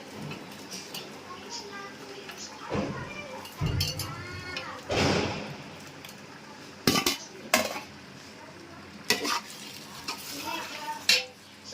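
Ginger garlic paste and tomatoes fry for chicken biryani, with a soft sizzle beneath repeated stirring scrapes and clinks of a spoon against the pan, while a person talks over the cooking.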